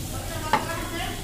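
A spice paste sautéed and stirred in a pan sizzles softly, with one brief scrape of the spoon partway through and no talking.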